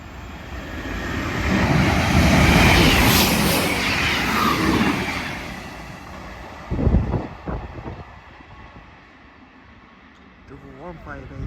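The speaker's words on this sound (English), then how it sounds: "Double 158 going to Norwich. And our last train passing by." A pair of coupled East Midlands Railway Class 158 diesel units heading to Norwich roars past, then recedes, followed by a few sharp knocks and quieter rumbling near the end.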